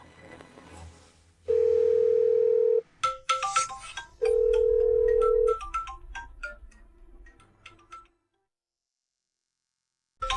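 A phone call tone sounds while the caller tries to reach a company director, with two long steady ring bursts, then clattering and rustling noises before silence.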